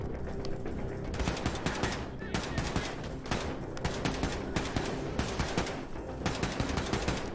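Rapid bursts of armor-piercing gunfire in the shooter game Wolfenstein II, loud dense automatic volleys repeating throughout with brief gaps, no talking.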